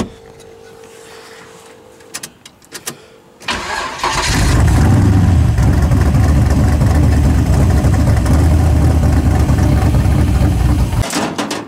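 A ramp truck's engine, just bled of fuel on the low and high sides, cranks and catches after a few quiet clicks and knocks, then settles into a loud, close, steady idle that cuts off abruptly near the end.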